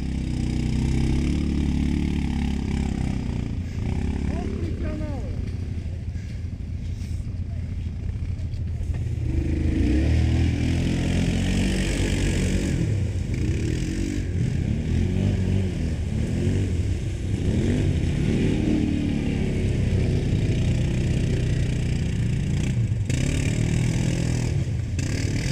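A quad bike engine running close by, a continuous loud motor drone that idles and then rises into repeated revving swells, with no voices heard over it.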